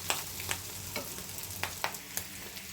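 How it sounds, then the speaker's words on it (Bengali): Fish roe and potatoes fry in a pan, a quiet steady sizzle broken by several sharp clicks of stirring, close and without any talk. "এই দেখেন, মাছের ডিম আলু দিয়ে একটু ভালো করে ভেজে নিচ্ছি।"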